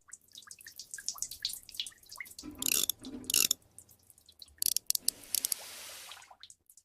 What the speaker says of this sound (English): A dripping faucet, a running toilet, a pipe that never gets fixed.